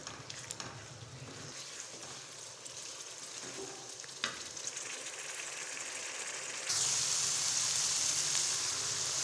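Moongre curry cooking in a pan just after yogurt is stirred in, a steady broadband sizzle and bubbling with occasional scraping, growing louder and brighter toward the end.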